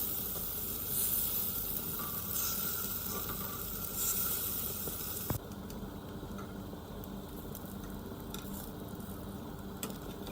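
Lentil and zucchini patties sizzle steadily in a hot pan over medium heat, a constant crackling hiss that drops slightly in intensity partway through, with no talking.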